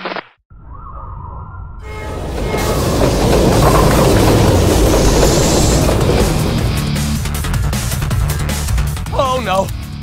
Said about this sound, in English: The train is in motion and can't be stopped.